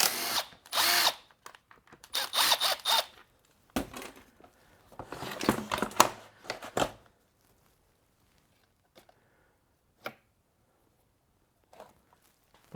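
Short bursts of a power tool whirring as it backs out screws on the cylinder head of a seized Ryobi leaf blower, with pauses, a few faint clicks and handling knocks in between.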